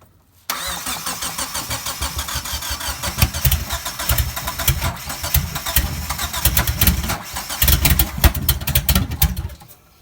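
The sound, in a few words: Mitsubishi Eclipse GST with Hyundai engine starting up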